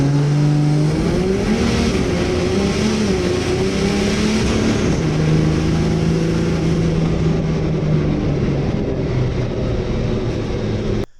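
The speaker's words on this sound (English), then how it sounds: "here's a clip of running the truck from inside the cab" A race truck with a 2000HP Cummins diesel engine runs loudly from inside the cab, a steady deep engine drone with shifting pitch that holds throughout, then cuts off abruptly at the very end.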